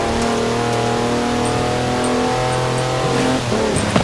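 A car engine in Forza Horizon 4 drives off-road, a loud sustained engine drone with steady harmonic tones and a brief dip near the end.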